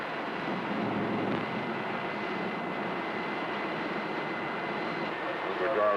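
Airliner engines on landing approach in a 1967 cockpit setting, a steady droning roar heard throughout with faint voices underneath.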